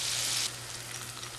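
KFC-style chicken popcorn frying in hot oil, a dense steady sizzle that is loudest at the start and then settles into a softer continuous crackle, close up with no voices.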